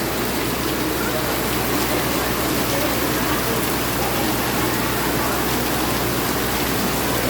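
Steady, dense rain falls without a break, a loud even hiss filling the whole stretch, with no voices standing out above it.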